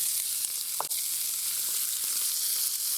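A steak sizzles in melted butter in a hot pan, giving a loud, steady, close hiss with a faint tap partway through and no voices.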